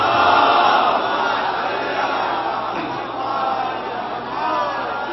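Crowd at a Jashn-e-Maulood-e-Kaba religious celebration in Naugawan Sadat raising a loud slogan together, a dense roar of many voices that holds steady for several seconds with small swells.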